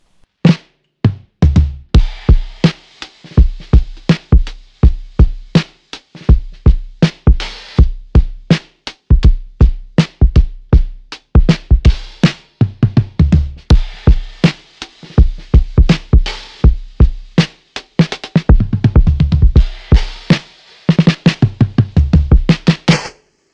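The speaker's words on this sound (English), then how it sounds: "if you're trying to get this lo-fi sort of knock bass drum sound" A tuned-up vintage bass drum on a lo-fi kit thumps with a short knocking punch, played in a busy groove with other drum hits, close and loud throughout with no talking.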